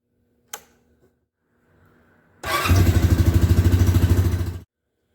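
A Honda Rancher 350 ATV gives a click and a brief crank, then the engine catches and runs with a rapid, loud, even putter for about two seconds before stopping.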